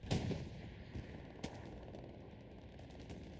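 Distant artillery fire and gunfire on a Hell Let Loose battlefield: a couple of sharp booms stand out over a steady rumbling wash of continuous combat noise.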